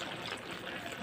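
Water poured into a cooking pot of bottle gourd leaves, a soft continuous trickling splash, close and steady with no voices over it.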